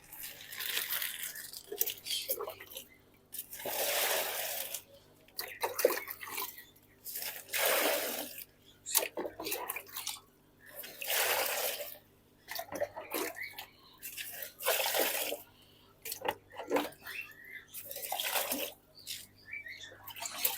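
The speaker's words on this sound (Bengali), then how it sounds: "প্যাকেটটাকে ভালো করে কিছু জল ভরতে হবে" Water pours in repeated bursts into a plastic bag for carrying aquarium fish, with crinkling and sloshing between pauses, fairly faint and close.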